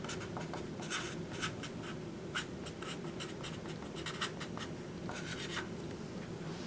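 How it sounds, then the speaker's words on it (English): A pen or marker drawing a free body diagram on a board: a rapid series of short scratchy strokes in irregular bursts, close and moderately quiet, with no talking. "I could easily draw this pin in the following manner"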